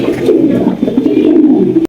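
A racing pigeon coos close up in a low, continuous throaty murmur that rolls on for a couple of seconds.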